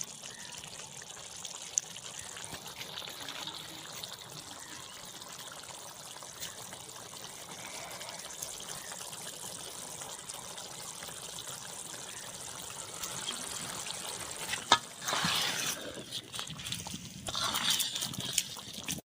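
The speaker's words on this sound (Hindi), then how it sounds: "नींबू का रस डालते हैं थोड़ा सा" Lemon juice poured a little at a time into food being prepared for an iftar meal, soft trickling and dribbling close by over faint background noise, with a few louder splashes near the end.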